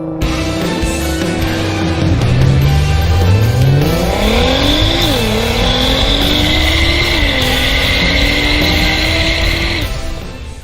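Nissan Skyline GT-R sports car accelerating hard, its engine note climbing through the gears with a sharp dip at each shift, loud and close with a high whine over the rising revs before easing off.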